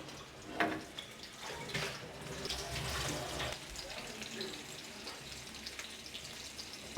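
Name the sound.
fish frying in oil in a pan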